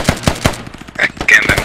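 Rapid automatic gunfire in the video game Squad, several quick bursts of close, loud shots, with a voice briefly heard among them.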